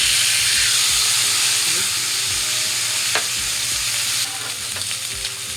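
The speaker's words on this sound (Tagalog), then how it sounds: "it's very hot. So we're going to put our ribeye steak." A ribeye steak sears in a very hot pan with a loud, steady, close hiss of frying fat that eases slightly toward the end, with faint clinks now and then.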